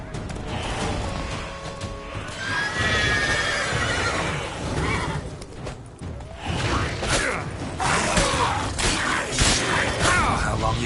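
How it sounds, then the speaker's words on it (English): A horse in The Witcher 3 whinnies repeatedly while its hooves clop at a gallop, with creaks and clatter mixed in and someone talking over parts of it. "Run, Roach."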